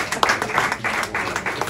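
Brief burst of clapping from an audience at a conference, loud and uneven with a few sharper individual claps standing out.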